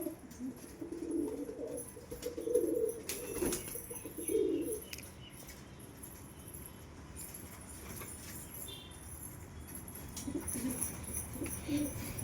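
Lakka pigeons coo softly in a loft during egg-laying season, low murmuring calls near the start and again toward the end, with faint wing flaps and rustling between them and no talking.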